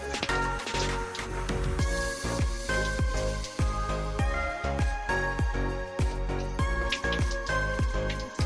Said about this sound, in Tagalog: Isasalin ko na yan dito sa buting walang laman